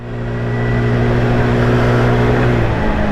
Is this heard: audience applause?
no